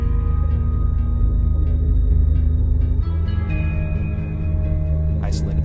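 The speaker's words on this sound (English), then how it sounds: "There's also a high guitar playing with a really cool tone, playing an affected kind of spacey part." High electric guitar with a spacey, heavily effected tone, sustained notes floating over a dense full-band mix, steady and loud throughout with no talking.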